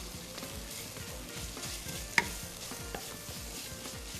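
Tomato paste frying with a dash of black pepper in olive oil for an okra dish, a constant hiss of sizzling under rhythmic scraping strokes of a spoon, with one sharp clink of utensil on pan midway.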